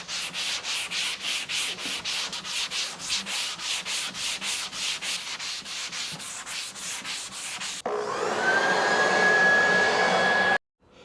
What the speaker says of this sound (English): And once it's all sanded,